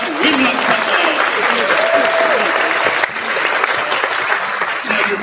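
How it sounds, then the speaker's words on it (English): Sustained, loud audience applause after a wind ensemble's set at a winter instrumental school concert, dense steady clapping from a large crowd with a few voices and a whistle rising above it. "give a nice big warm round of applause to the Chaparral Wind Ensemble"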